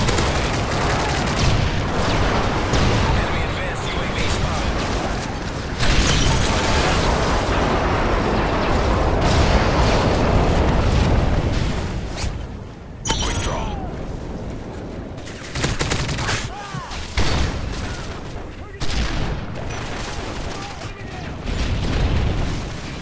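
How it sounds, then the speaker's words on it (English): Repeated airstrike blasts and gunfire in a first-person shooter match on the Dome map, a dense fusillade of booms and crackling shots filling the whole stretch, loud and close, with a few brief bursts of talk mixed in. "Delta airstrike."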